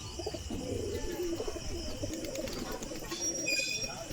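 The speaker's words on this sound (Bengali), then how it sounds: "এ পায়রাটার খুব খেলার চাপ।" A pigeon coos softly in low, rolling calls at a moderate distance, with faint outdoor background noise and a few thin chirps near the end.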